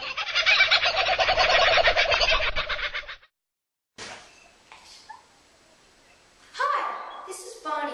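A turkey gobbles loudly and close for about three seconds in a rapid rattling burst, then falls silent before a person starts talking.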